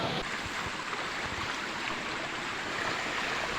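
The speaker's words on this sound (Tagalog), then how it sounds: "Crossing. River crossing." A motorbike crosses a river, producing a continuous broadband rush and splash of moving water that stays steady and fairly close throughout, with no voices.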